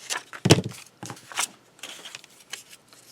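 Scissors snip through paper scraps while a small matchbox junk journal is made, giving a few short crisp cuts and rustles, close and fairly quiet.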